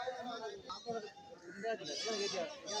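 At a Kerala goat market, a goat bleats with a drawn-out, quavering call toward the end, over a brief stretch of close, busy market noise.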